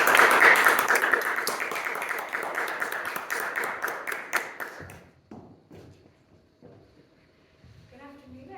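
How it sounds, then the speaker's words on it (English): Audience applause at an afternoon vocal music program, a steady wash of clapping from a seated crowd that fades out midway, followed by scattered quiet thumps and a voice. "Please give her a round of applause."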